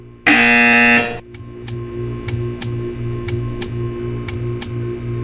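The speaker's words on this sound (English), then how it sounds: "You will hear a buzzer." A loud, harsh electronic buzzer from Portal 2 blares for about a second, then a steady rhythmic ticking continues with faint clicks and a low hum.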